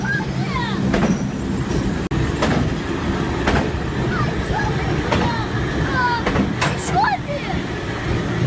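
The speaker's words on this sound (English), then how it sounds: "Two trains are traveling closely together." Trains run past very close to houses along narrow tracks in South China, a continuous rumble of rail cars with repeated wheel clacks and squeals, loud and near.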